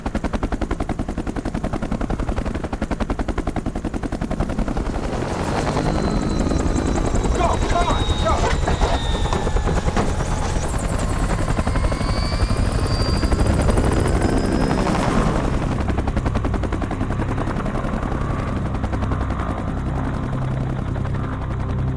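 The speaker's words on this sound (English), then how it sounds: "The sound of a chopper landing can carry a long ways" A military helicopter in a Vietnam-era war film thunders close and loud throughout, its rotor chop constant while bursts of gunfire crackle in the middle, with voices talking over the din.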